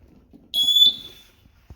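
One high-pitched electronic beep from a bedroom smoke detector being tested during a home inspection, lasting under a second, clear and steady, with faint room noise before and a small knock after.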